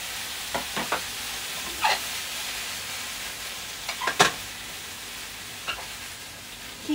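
Paprika being stir-fried in a pan, a soft steady sizzle broken by several sharp scraping and clattering stir strokes of the utensil, close and moderately loud, with no voices.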